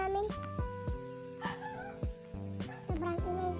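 A dog barks repeatedly at a sheep farm, sharp yips and barks coming in a steady rhythm about every half second, close and loud over a tonal background.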